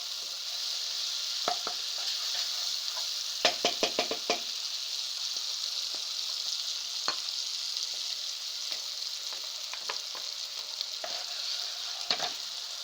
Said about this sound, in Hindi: मलाई डालने के बाद हमने चूल्हे की आंच हल्की कर दी है और अब हम इसे भूनेंगे।